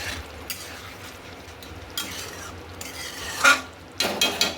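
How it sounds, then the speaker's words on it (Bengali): A spice paste with sugar and turmeric cooking down in a pan for a soybean curry, a low steady sizzle broken by several scraping stir strokes that grow louder toward the end, nearby, with no voices. "এইভাবে মশলাটা 2-3 মিনিট কষিয়ে নিতে হবে।"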